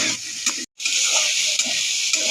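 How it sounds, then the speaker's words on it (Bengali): Soybean chunks fry in hot oil with a little salt and turmeric, making a steady, fairly loud hissing sizzle that cuts out for a split second before resuming. "লাল লাল করে ভেজে নিব"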